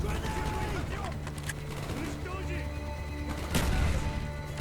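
Scattered bursts of gunfire and distant explosions crackle through the Call of Duty: Black Ops 6 soundscape, with a steady low hum underneath.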